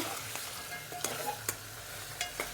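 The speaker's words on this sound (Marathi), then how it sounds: "मी वाफायला टाकलेले आता हलून घेते" Goat mutton is stirred as it steams in a pot, with several sharp scraping clanks of a spoon against the metal spaced through a low background hum.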